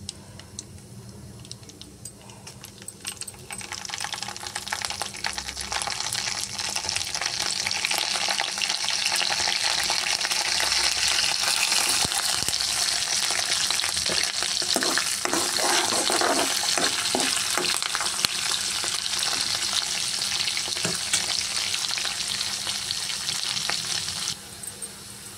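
Cumin seeds and tomato pieces fry in a pan. A quiet start swells after a few seconds into a strong, crackling sizzle that holds steady, with occasional pops, then cuts off near the end.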